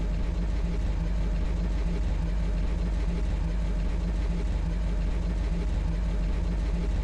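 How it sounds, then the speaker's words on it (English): Unhealthy-sounding car engine idling in the video game Stalker, a steady low rumbling drone that holds at an even level for the whole stretch, with no talk over it. "car does not sound healthy"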